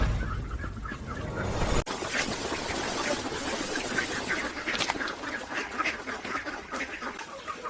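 Loose ducks and chickens in a greenhouse, with repeated quacking and agitated fowl calls over a dense, noisy background after a sharp bump, continuing throughout at moderate distance without speech.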